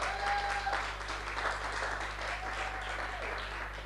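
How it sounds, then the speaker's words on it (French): Audience applause at a gospel music show in Cameroon, a continuous wash of clapping from a crowd with a steady low hum underneath throughout. "On applaudit très fort s'il vous plaît."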